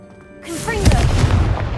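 The Confringo spell in the Hogwarts Legacy video game sets off a loud, booming explosion right after a short quiet lead-in, then a rumbling blast that keeps going to the end, with a voice calling out over it.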